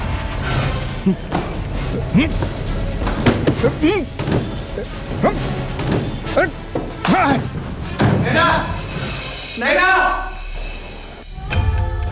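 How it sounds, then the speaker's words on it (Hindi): A door being broken down in a Hindi crime drama: a series of heavy slams and thuds, struck repeatedly at uneven intervals, with urgent voices talking between the blows. "काका दरवाजा तोड़ दो।"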